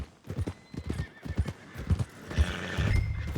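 In Red Dead Redemption 2, a horse's hooves clip-clop in a steady walking rhythm near the stables, ending in a loud, close whinny.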